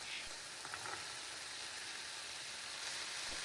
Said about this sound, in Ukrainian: і обсмажую моркву разом з м'ясом також до золотавого кольору.